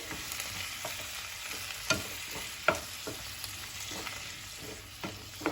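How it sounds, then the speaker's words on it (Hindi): Three roughly chopped tomatoes frying in a pan over medium flame, stirred with repeated scraping and clacking strokes over a continuous sizzle. "अब टमाटर ऐड कर देंगे।"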